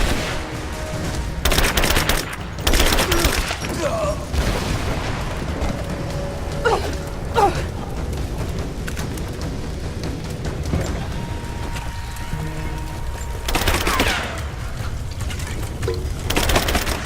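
Gunfire in the Rise of the Tomb Raider video game: scattered shots and rapid bursts ring out at varying distances over a rumbling battle backdrop, with loud clusters near the start and around the middle and end.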